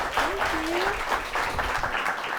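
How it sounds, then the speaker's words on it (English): A steady round of applause from an audience at a home tidying class, dense clapping filling the moment with a faint voice or two in the background. "let's give her a round of applause and get started with Choosing Joy."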